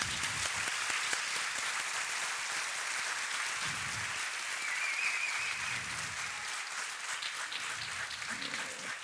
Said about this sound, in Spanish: Quiero pedir un aplauso para Giovanna, que no quiso aparecer.